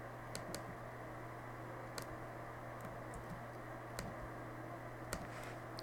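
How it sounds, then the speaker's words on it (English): Computer mouse clicks while text is copied, a few faint, sparse sharp clicks spaced a second or so apart over a low steady hum. "Just a few mouse clicks as we get everything copied over."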